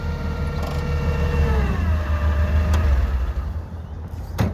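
Forklift being driven while a fish room is built, a steady, low engine drone with rising whine as it moves, plus a few sharp clanks near the end, with no speech.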